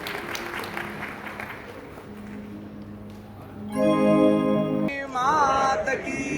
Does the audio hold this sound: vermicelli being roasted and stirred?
no